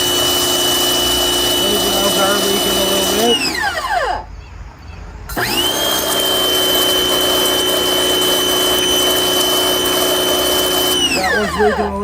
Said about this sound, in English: so I got my pressure washer out. We're going to test these valves